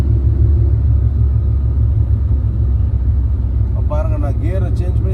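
Car engine pulling in third gear on a highway, a loud, steady low rumble as the driver keeps on the accelerator, with someone talking over it toward the end.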